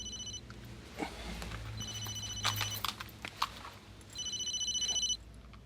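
A telephone rings in repeated bursts, a trilling electronic ring starting and stopping several times with brief clatter and movement in between, fairly close and without talk.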